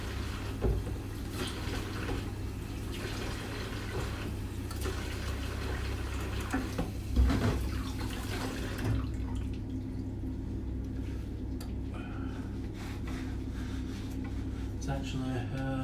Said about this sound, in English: rinse the chopping board.